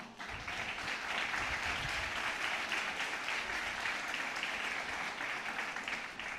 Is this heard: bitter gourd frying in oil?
no